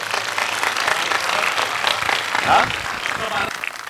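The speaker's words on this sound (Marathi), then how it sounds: "सर्वांनी जोरदार टाळ्यांचा कडकडाट करा" A crowd at a wrestling event claps loudly and steadily throughout, a dense wash of applause with a voice speaking over it.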